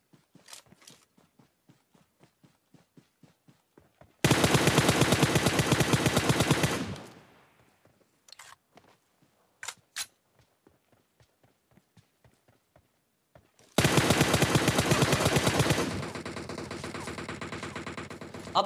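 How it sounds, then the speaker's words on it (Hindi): Gunfire in the PUBG Mobile video game erupts in two loud, sustained bursts of rapid shots, separated by quieter stretches of soft rhythmic footsteps and a few isolated single shots. "लेकिन फिर उसके बाद उधर से गोलियां चलती है राइट से"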